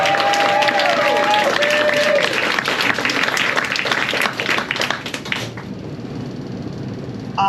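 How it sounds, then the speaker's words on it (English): A crowd at a poetry reading applauds and cheers for a poet, loud and full for about five seconds before thinning to a few scattered claps and quiet room tone. "a round of applause for Love the Poet."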